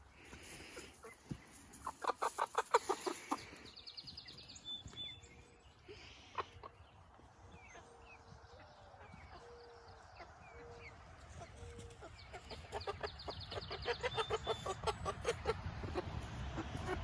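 A backyard flock of chickens clucks and squawks at close range, with short bursts of noisy flapping and scuffling as they settle their pecking order, while people talk nearby.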